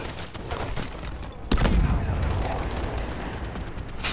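Gunfire in Call of Duty: Advanced Warfare, rapid bursts of shots with a heavy boom at about one and a half seconds, set in dense continuous battle noise.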